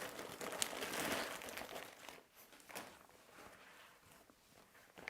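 Soft crinkling of a plastic bag holding a pair of leather gloves being handled, rustling in uneven bursts that grow quieter toward the end, no talking.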